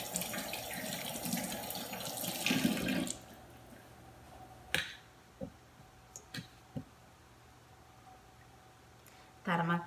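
Water is poured in while preparing idli: a tap runs in a strong splashing gush for about three seconds, then stops, leaving quiet with scattered clicks and knocks and a brief burst of running water at the very end.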